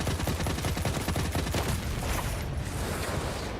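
Rapid gunfire in the game Dichotomy rattles in a dense, continuous volley, loud and sustained throughout with a fast repeating rhythm.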